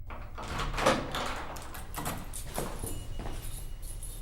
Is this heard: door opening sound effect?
yes